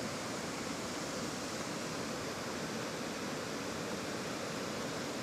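Wadsworth Falls in winter, a steady broadband roar of falling water, constant and fairly loud with no pauses, heard alone without voices.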